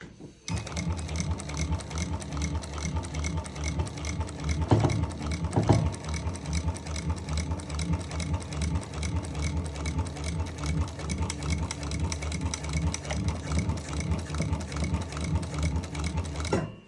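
A Juki DU1541 heavy duty sewing machine runs at a reduced speed setting, giving a steady mechanical hum and clatter that carries on without a break. Two brief louder knocks come in about midway.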